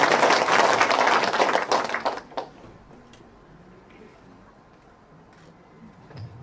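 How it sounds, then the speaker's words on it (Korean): Lecture audience at a volunteer center talk breaking into a burst of applause, dense clapping for about two seconds that quickly dies away into a quiet room with a few stray claps. "그럼 박수도 치실까?"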